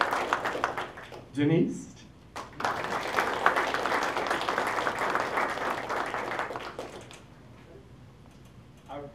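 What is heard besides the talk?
audience applause for named participants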